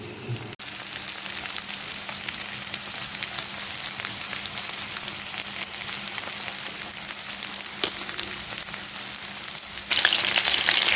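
Small kechki fish fry in a pan with a steady, moderate sizzle of hot oil that holds even throughout and grows slightly louder and brighter near the end.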